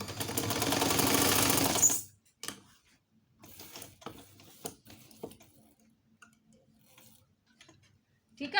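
A sewing machine stitches patchwork pot holders in one fast, loud whirring run of about two seconds, then stops, followed by quiet clicks and handling noises.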